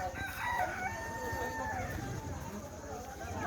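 A rooster crows at a bird park on Kanakapura Road, with other fowl clucking nearby and people talking over the call.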